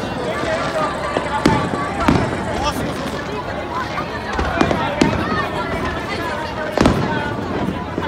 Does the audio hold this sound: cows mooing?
no